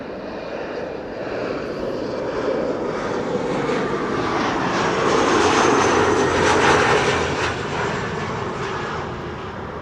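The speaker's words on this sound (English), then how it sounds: "And then another 777-300 arriving from Cape Town," A Boeing 777-300 airliner landing at Amsterdam Schiphol Airport after flying in from Cape Town: a loud, broad jet engine roar that swells toward the middle as the plane passes close, then slowly eases off, with no voices.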